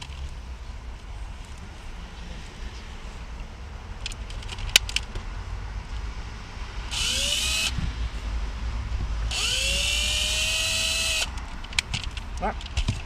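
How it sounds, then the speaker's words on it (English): Power drill boring holes through the floor of a 2001 Toyota Camry, two sustained high whirring bursts rising in pitch as the bit spins up, with scattered clicks and handling clatter around them. "just get your drill and drill out the holes on the marked areas"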